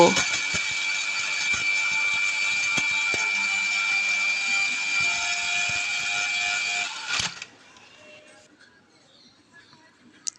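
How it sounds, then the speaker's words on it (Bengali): An electric blender grinds sugar for a ready masala tea mix, a loud, steady high whine with a fixed pitch. It runs for about seven seconds, then cuts off abruptly into near quiet with a few small clicks. "আর আধা কাপ চিনি এবার ব্লেন্ড করে নেব"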